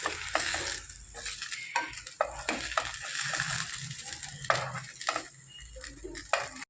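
Okra (ladies finger) fries in oil in a pan, a light sizzle under repeated scraping stirs of a spatula against the pan, uneven in rhythm and close by.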